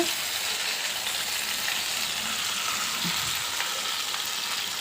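Tamil-style fish fry (meen varuval), masala-coated fish turned over and cooking on a good flame in a pan, gives a steady, dense sizzle that holds evenly throughout, close and fairly loud with no voices over it.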